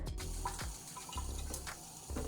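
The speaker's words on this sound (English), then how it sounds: "you're gonna add a little bit of cold water" Cold water trickles into a pint of protein ice cream in a Ninja Creami container, a quiet, steady pour with small splashy bursts and nobody speaking.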